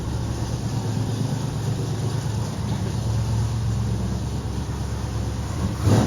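A car engine with a lopey cam idles continuously, a steady low rumble with an uneven pulsing beat that holds for several seconds, with a brief louder knock near the end.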